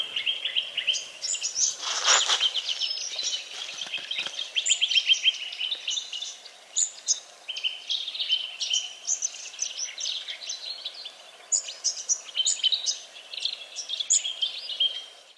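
Birds singing in the Great Western Woodlands, a chorus of high chirps and trilling calls layered over one another, steady and fairly close, with no talking.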